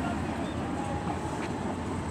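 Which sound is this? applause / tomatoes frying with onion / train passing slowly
train passing slowly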